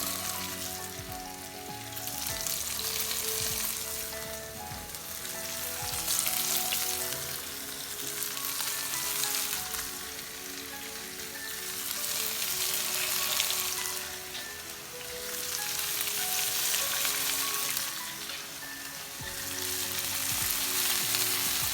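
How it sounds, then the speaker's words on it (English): Steady, loud sizzling of meat frying in a pan, continuous crackle and hiss swelling and easing in waves with no talking. "You can hear that sizzle, that's what you want."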